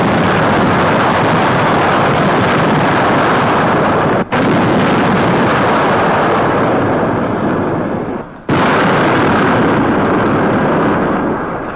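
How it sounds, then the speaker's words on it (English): Artillery in 1943 North Africa firing 300-pound projectiles: a loud, dense, continuous roar of blasts, broken by two very brief pauses. "Weapons capable of hurling 300-pound projectiles many miles with amazing accuracy."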